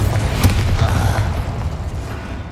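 A fiery Incendio spell bursts in Hogwarts Legacy, giving one sharp, loud boom that fades into a sustained low rumble and crackle.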